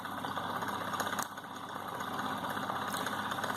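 A single-phase AC motor spinning a two-blade fan runs with a steady, faint whirring hum and a soft even drone, close by and alone.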